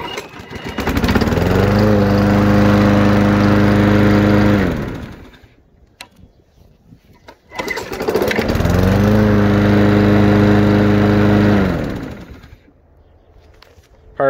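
A John Deere lawn mower engine fires up and runs loud and steady for several seconds, cuts out, then starts again and runs for another stretch before stopping.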